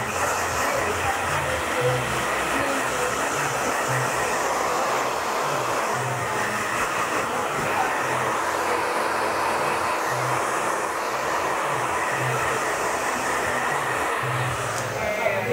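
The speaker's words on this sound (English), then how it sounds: "I'm drying it from the crown." A hair dryer runs steadily and fairly loud while a man's hair is dried from the crown during a haircut, a constant airy whir with slight fluctuations throughout.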